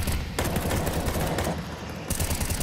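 Rapid bursts of M4 rifle fire in Counter-Strike 2 during a professional FaZe versus Vitality match, loud and sustained with brief breaks between volleys and no voices.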